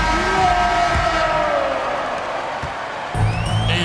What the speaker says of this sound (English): Please give a big round of applause for your Raptors